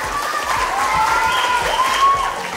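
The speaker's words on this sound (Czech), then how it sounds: "Zatleskejte frajerovi." An audience applauds at a hide-and-seek game held in a trampoline centre, a dense steady patter of clapping running throughout, with whistle-like tones and faint voices mixed in.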